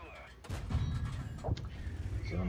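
Heavy booming tank cannon shots from World of Tanks, fired by the Excelsior tank, with a loud blast near the start and another midway, over continuous rumble and a talking voice.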